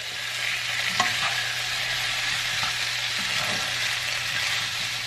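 Mauritian-style chow mein fried noodles sizzle steadily in a hot pan, a close, even hiss with a low background hum and a few soft utensil clinks and scrapes as the noodles are tossed.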